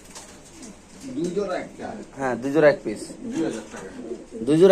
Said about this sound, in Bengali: ওই যে পিছনে একটা কবুতর আছে রেসের কবুতর